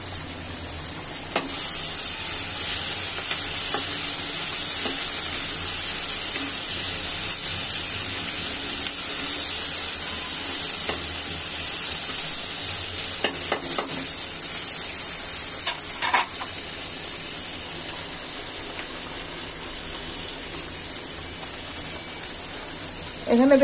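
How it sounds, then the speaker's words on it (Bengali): Spices are sautéed and stirred in a frying pan with a steady, continuous hiss and sizzle, loud and close, and occasional faint scraping from the stirring. There is no clear speech over it. "এটা এখন কষিয়ে নেবার পালা"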